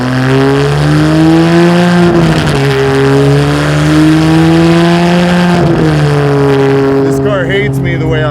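A custom V12 Ferrari 612 runs and revs steadily, a strong rising-and-falling engine drone heard close throughout, with a slight dip in pitch around the middle and end.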